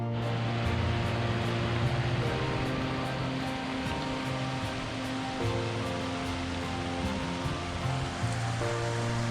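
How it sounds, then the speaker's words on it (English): An unexpected waterfall rushes in a continuous, loud, broadband roar, steady and close throughout with no voices over it. "this unexpected waterfall right here is where we're going to wrap up this weekend adventure"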